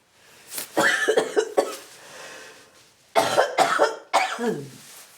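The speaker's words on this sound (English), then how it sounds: "I have to cough." Two bursts of harsh coughing, close and fairly loud, separated by a quiet pause with faint breathing.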